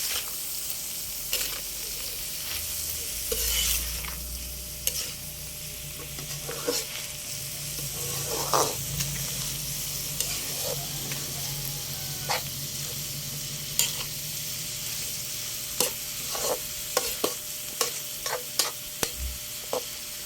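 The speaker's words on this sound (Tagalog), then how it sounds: "Halo-haloin para mag-mix ang ingredients" Bopis ingredients sizzle softly in a pan under a constant low frying hiss, while a utensil scrapes and clicks against the pan in irregular stirring strokes throughout.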